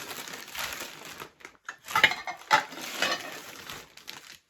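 Crinkling and rustling of packaging with a few light clinks of plates being unpacked from a parcel, close by, with no talking.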